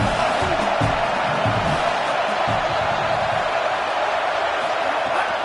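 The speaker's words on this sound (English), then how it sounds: "how nice is it to have the home crowd going absolutely bananas?" A home crowd roaring at a college football game in the video game NCAA 27, a loud continuous wash of cheering and whooping, with some faint voices underneath.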